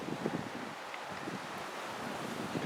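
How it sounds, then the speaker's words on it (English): Wind buffets a camera microphone outdoors in a garden on a cool, windy day, a steady rumbling roar with small gusts throughout and no other sounds. "You may hear the wind blowing on the camera microphone."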